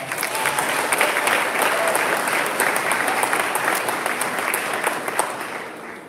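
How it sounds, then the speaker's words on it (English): Dense, sustained applause from a high school audience for students in a Black History production, steady crackling clapping filling the whole stretch at close range without pause. "Let's give them a big round of applause."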